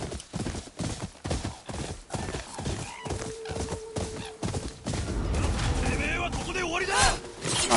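Horses galloping in the video game Ghost of Yotei, rapid rhythmic hoof clatter with a neigh, close and loud, mixed with combat thuds and someone talking over it.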